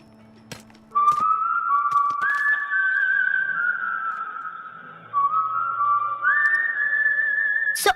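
A single person whistles a cheerful, sustained tune with gliding pitch steps, close and clear, lasting several seconds, with a few light taps around it and no speech.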